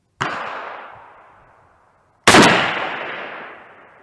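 Two loud rifle shots from a Saiga rifle firing 7.62x39 rounds at an outdoor range, each a sharp crack followed by a long echoing decay, about two seconds apart.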